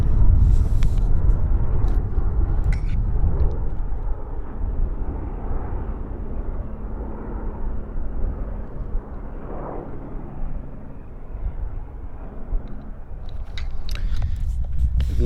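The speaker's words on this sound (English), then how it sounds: "B-22 Ospreys." A V-22 Osprey tiltrotor aircraft flies overhead, heard as a steady, fairly loud low rumble that holds for the whole stretch with no voices.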